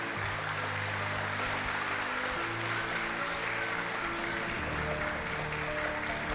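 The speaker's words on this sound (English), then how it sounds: "let's give a round of applause to our fabulous finalists for their thoughtful statement" Steady applause from the audience at a global Chinese beauty pageant final for the finalists, continuous under sustained background music tones throughout.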